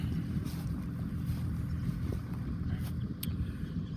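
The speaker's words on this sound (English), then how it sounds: "Hope that's not a bunch of wind noise happening right there." Steady wind buffeting a microphone in a haygrazer field, a continuous low rumble with faint gusty hiss and a few brief ticks, with no one speaking.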